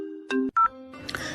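A phone in a home setting sounds a short electronic tone pattern, a few stepped beeps and a warbling ring, fairly close and clear, with no talk over it.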